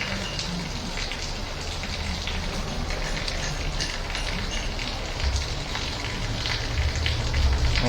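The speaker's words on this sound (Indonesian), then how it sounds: "ternyata hujan guys" Steady rain falls during a wet spell while a delivery driver waits it out, a dense, continuous hiss of drops on surfaces with a few heavier spatters, no voices.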